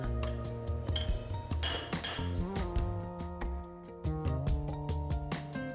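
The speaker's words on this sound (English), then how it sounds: "If the bearings do not insert smoothly, tap them with a chisel." Metal bearings being set into a purifier's lower bearing cover ring with repeated sharp clinks and pings as they are tapped with a chisel, irregular close strikes with ringing tones, no talk.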